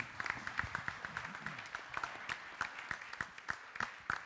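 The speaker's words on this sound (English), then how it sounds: "Give them a big round of applause." Applause from a modest audience for groups at an entrepreneurship competition, individual claps distinctly audible in a brisk, uneven rhythm, fairly quiet and somewhat distant, without talk.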